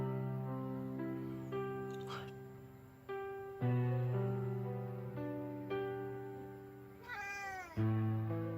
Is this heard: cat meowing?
yes